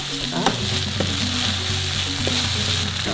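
Pad thai noodles sizzle and fry in a hot pan, a steady close crackle broken by a few sharp clicks of stirring, with no voices.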